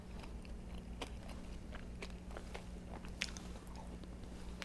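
Crunchy bites into crispy fried crappie fish, several sharp crackling crunches scattered over a low steady hum, quiet and close-up.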